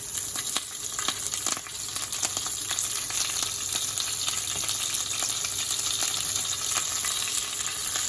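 Green chilies frying in hot oil in a pan with chana dal for South Indian tomato rice, giving a loud, continuous close sizzle and crackle with faint stirring scrapes and no voices.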